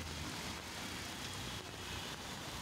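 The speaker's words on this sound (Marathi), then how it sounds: "या पावसाळ्यात धो पाऊस पडत असताना" Heavy monsoon rain falling steadily around a lake in Thane, a dense, even hiss that continues unbroken throughout with no voices.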